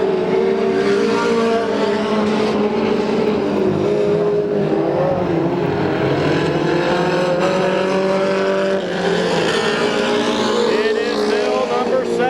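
IMCA stock cars racing on a dirt track at Adelanto, California, a steady loud roar of several engines passing along the front straightaway, with an announcer talking over it throughout.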